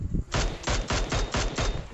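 UMP submachine gun fire in the video game PUBG, a rapid burst of roughly seven loud, closely spaced shots in steady rhythm, heard up close with no talk over it.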